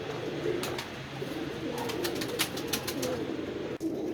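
Loft pigeons keep up a murmuring, overlapping coo, close and moderately loud, dotted with sharp clicks and flutters and a short break near the end; no voices.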